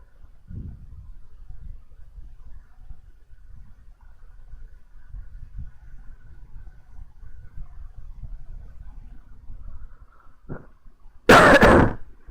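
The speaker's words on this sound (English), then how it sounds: "I have a lot of cough" A person coughs in a quiet room, with a few soft low rumbles and faint throat sounds early on, then one loud, harsh burst of coughing near the end.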